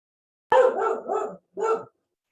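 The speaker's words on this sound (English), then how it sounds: "pay attention to the dog and pet him so that he stops barking" Dog barks three times in quick succession, fairly close and sharp, followed by silence, with no other sounds around it.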